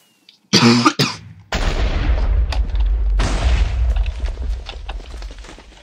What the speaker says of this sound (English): explosions happen over there.